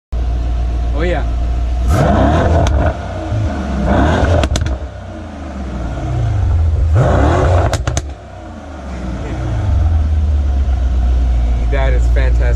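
Mercedes-AMG E63S sedan engine revving, several loud rising and falling revs with deep exhaust roar between steadier idle stretches, close by, with voices talking over parts of it.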